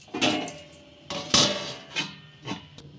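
A metal lid is set on a cooking pot of pumpkin greens with a few separate clanks and clatters, fairly faint and spaced about half a second to a second apart, with no talking.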